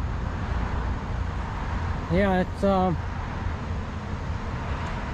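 Steady road traffic rumbles in the background outdoors, a broad continuous wash beneath someone talking close to the microphone.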